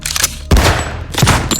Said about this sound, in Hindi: कुबेर ने सिद्धार्थ का निशाना लेकर एक गोली चलाई